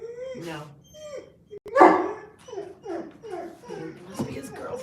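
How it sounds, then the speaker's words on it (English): A dog barks in short, uneven yips and barks while a person talks over it, and the barking comes through fairly clearly alongside the voice. "it's the dog that always snarls and barks at him when he walks by"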